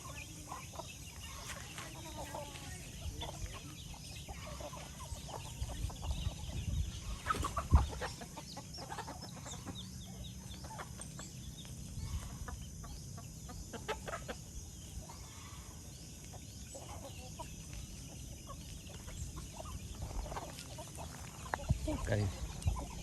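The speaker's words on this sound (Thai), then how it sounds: "ไก่" Chickens cluck softly outdoors at a rural temple village in Laos, with scattered clucks and calls over a hazy background while people talk at a distance.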